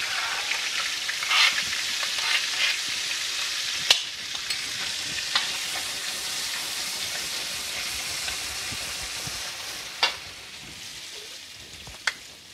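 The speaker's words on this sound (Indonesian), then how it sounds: "kemudian minyaknya untuk menumis bumbu halus." Ground spice paste sautéing in oil, a dense crackling sizzle with scattered louder pops and spatula knocks against the pan, steady throughout and free of speech.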